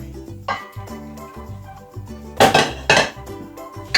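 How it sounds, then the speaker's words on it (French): Spatula scraping and stirring sliced zucchini into beaten eggs for a zucchini omelette or tortilla, giving clinking, knocking strokes against the bowl, with a few louder clattering hits near the end. "On vient mélanger le tout."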